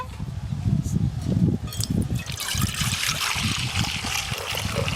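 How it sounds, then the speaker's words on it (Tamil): Milk is poured for strawberry pipe ice, a close, steady trickling pour that continues throughout, with some low thumping at the start. "ஸ்ட்ராபெரி பைப் ஐஸ் செய்யறதுக்கு பால் ஊற்றிக்கலாங்க."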